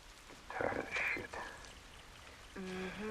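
Rain falls in a scene from The Last of Us video game, a soft patter of drops heard in a few brief bursts, with a voice faintly present near the end.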